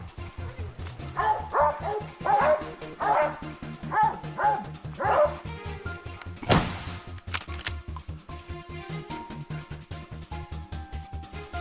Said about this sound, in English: Barking echoed from afar, signaling boars hiding in a muddy drainage.